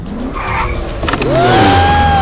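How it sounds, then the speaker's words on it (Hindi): Car in an action movie scene speeding off, a rising tire squeal swelling loud and steady over engine noise after a brief rumbling start. "अब देखना यह है कि ये गाड़ी सिर्फ चलती है या फिर भागती भी है"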